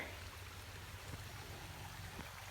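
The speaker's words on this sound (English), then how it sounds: "There it is trickling." A state-park stream trickles faintly and continuously, a low gentle wash with a few small splashy accents, alone without talk.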